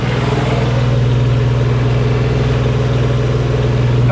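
A Kioti CS2530 compact tractor's diesel engine runs steadily at a loud, close, even drone with a strong low throb and no speech.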